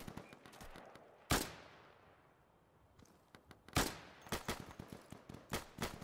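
Gunfire in the video game Insurgency: sharp single shots, one early, a couple in the middle, then a flurry of rapid bursts with quieter echoing reports between.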